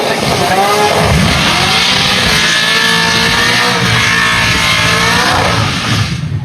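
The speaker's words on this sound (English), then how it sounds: "It's Andy Coles again in brother Brent's RX-8 with that LSA on board." A Mazda RX-8 fitted with an LSA V8 engine runs in a drag racing event at Kanefields. A loud, continuous engine roar with rising revs fills the whole stretch, with a commentator talking over it.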